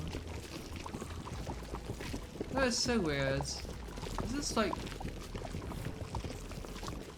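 A bubbling emote sound in Fortnite, a soft, watery burbling that runs steadily under people chatting and reacting.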